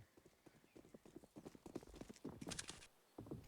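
Horse hooves clip-clop in a quick uneven rhythm, joined by a short neigh, moderately quiet over a soft background murmur.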